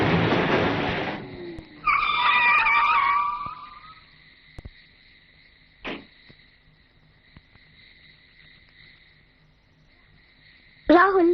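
Car in a 2003 Hindi horror movie scene, a loud rushing burst followed by a squealing tire skid, then quiet with scattered thumps and a steady high insect-like whine, ending in another sharp loud burst.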